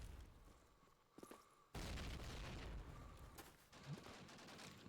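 BAR rifle fire in Call of Duty: United Offensive during a competitive match, heard as rough bursts of gunfire in the background with a dense, continuous battle din between them.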